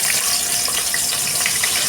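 Bitter gourd pieces frying in hot oil for a Bengali shukto, giving a steady, dense sizzling hiss that stays loud and even throughout, with no talking.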